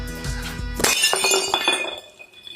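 A glass jam jar breaks with a sudden sharp crash, followed by a scatter of bright clinking and tinkling shards settling over the next second or two, close and loud.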